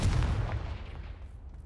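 A Confringo fire spell in Hogwarts Legacy goes off as one loud, close, booming blast that fades out over about a second and a half.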